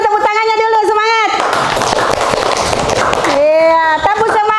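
A classroom audience in Semarang gives a spirited burst of clapping, dense and loud for a couple of seconds between stretches of a teacher's speech before and after.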